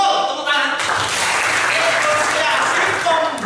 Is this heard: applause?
yes